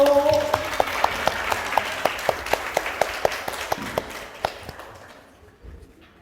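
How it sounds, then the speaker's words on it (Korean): At a Korean study-coaching concert event, a small audience claps for a student presenter, distinct individual claps in a loose rhythm that slows and fades out over several seconds, with a faint voice underneath. "다시 한번 우리 하율이에게 큰 박수 부탁드려요"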